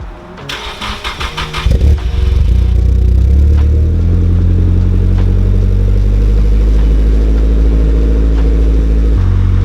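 A Nissan S15 cold-starts with a rapid, loud starter cranking for about two seconds before the engine catches and settles into a loud, steady, throbbing idle close by.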